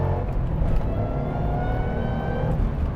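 A 210,000-mile Shelby GT500 pulls hard at full throttle, its engine roar climbing steadily in pitch as it accelerates, heard from inside the car with a constant deep rumble underneath.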